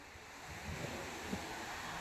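Sea waves washing in at Girgaon Chowpatty on Marine Drive, Mumbai, a steady low surf roar mixed with wind buffeting the microphone, with a couple of soft swells rising briefly and no voices.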